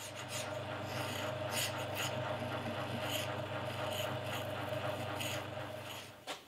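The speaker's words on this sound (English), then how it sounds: "so I prepared them for plating in much the same way, just files and buffing." Rusty old drill press handles are worked by hand with a file, giving continuous rasping strokes that sound loud and close, over a steady low motor hum.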